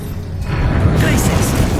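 A Confringo explosion spell cast in Hogwarts Legacy, a loud, low rumbling boom that swells and lingers with crackling magical bursts.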